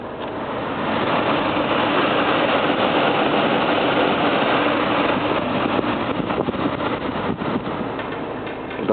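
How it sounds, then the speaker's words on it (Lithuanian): An Opel Astra G engine idles with a steady low rumble inside the car, the heater fan blowing alongside, continuous and even with slight fluctuations near the end. "variklis yra užvestas"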